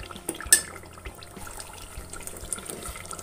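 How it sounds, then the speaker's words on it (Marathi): Hot water pours into cooking chicken curry in a pot, a soft close splash and trickle with a sharper splash near the start, then faint liquid movement, heard alone. "आता यामध्ये मी गरम पाणी घालणार आहे"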